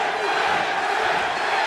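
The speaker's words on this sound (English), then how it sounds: "And now the crowd begins to chant Tank." Fight crowd at a Tank Abbott versus Dan Severn bout roaring in a dense, steady wash, a rhythmic chant of the fighter's name blending into the continuous arena noise throughout.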